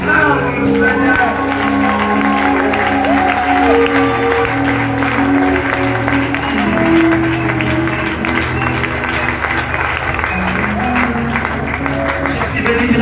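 A church congregation acclaims the Lord with continuous loud clapping, cheering and shouts that fill the space for the whole stretch, a dense steady roar of crowd praise.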